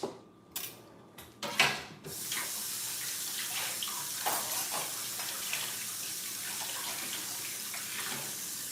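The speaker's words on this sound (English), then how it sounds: "I'm going to wash the carrots." Carrots being washed under a running kitchen tap, a steady broadband rush of water with brief splashy knocks and clatter at the start before settling into continuous flow with small shifts as the carrots are turned.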